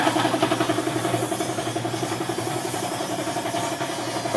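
The small engine of a paint sprayer pump runs close by, putting out a quick, regular pulsing chug with a rhythmic throb over a busy mechanical hum. No one speaks.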